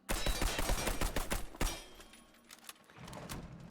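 A rapid string of full-auto gunshots cracks loudly in Warface, then tapers into quieter scattered impacts and rattling debris.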